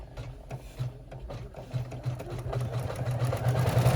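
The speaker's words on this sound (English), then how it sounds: "I'm going to go ahead and let the camera roll because these are really short stitches" An embroidery machine stitches short stitches to form the gusset of a reusable snack bag in the hoop, giving a quiet, rapid mechanical whir with a faint repeating beat that grows slightly louder.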